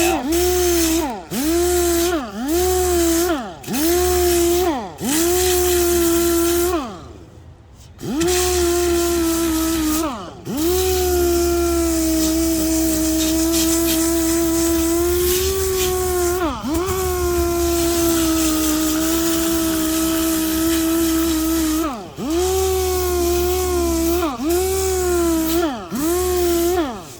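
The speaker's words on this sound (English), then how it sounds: "I'm going to use a piece of 80 grit, sticky back." Power sander with 80 grit sticky-back sandpaper working the metal of a custom painted metalflake Harley motorcycle, a steady whine broken by repeated short pauses and restarts, loud and close, with no talking.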